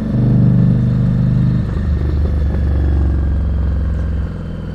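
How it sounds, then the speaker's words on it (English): A small engine runs close and loud, its idle sputtering and popping unevenly before easing down near the end. "Kind of fun listening to that engine pop."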